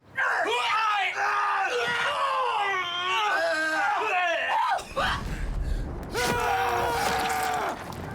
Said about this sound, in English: all the screams you hear in the game for that charging moment were here